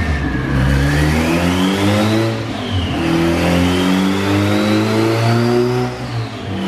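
A 500hp turbocharged Honda hatchback engine revs hard on a dyno pull, loud and close, with rising and falling engine harmonics that sweep up through the gears and hold a sustained roar.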